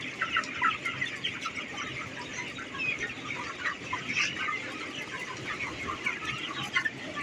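A twenty-three-day-old flock of broiler chickens in a semi-controlled poultry shed clucks and chirps continuously, many birds overlapping at close range in a dense, busy chorus.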